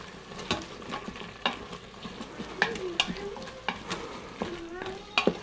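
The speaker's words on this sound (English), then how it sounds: "I'm gonna kind of mix it around and let it saute with the onions and the carrots." Thai curry paste sautéing with onions and carrots in a pan, a steady sizzle broken by repeated scrapes and clinks as it is stirred; a voice can be heard faintly in the background.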